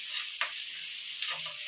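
Puri frying in oil on a hot pan makes a soft, even sizzle, with two brief brighter hisses as more oil goes onto it. No one speaks.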